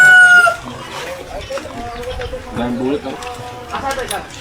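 Chickens cluck nearby, with a brief crow-like call at the start and scattered clucks throughout, while people talk over them.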